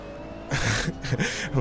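GT race car engine in Assetto Corsa during a Blancpain Sprint Series race at Misano, a revving drone that surges loudly after a quieter start and rises and falls in short bursts, with a person talking faintly over it.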